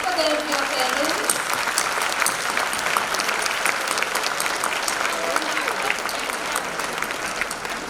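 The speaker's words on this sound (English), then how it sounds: "they deserve a huge round of applause. Let us clap for them, dear parents." Parents applauding students at a primary school annual day, sustained crowded clapping from a large audience throughout, with a brief voice audible early on.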